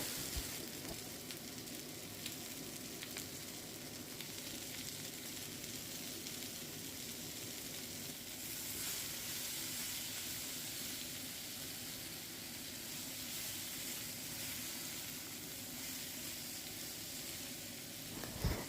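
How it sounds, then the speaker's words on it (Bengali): Cut cauliflower and potato fry in a pan with a little salt and turmeric, giving a faint, steady sizzle and hiss that lasts throughout with a slight swell midway and a small clatter at the end. "ফুলকপি আর আলু কেটে রেখেছিলাম এটাকে একটুখানি ভাজা ভাজা করে নেব"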